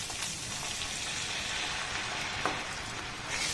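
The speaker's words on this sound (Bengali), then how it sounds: "এবার এগুলোকে আমি একটু ভালোভাবে নাড়াচাড়া করে নেব।" Vegetables for a spicy veg momo filling stirred as they fry in a pan, a soft, fairly faint continuous sizzle with occasional light scrapes, no voices.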